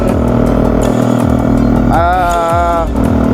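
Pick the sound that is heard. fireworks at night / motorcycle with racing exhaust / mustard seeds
motorcycle with racing exhaust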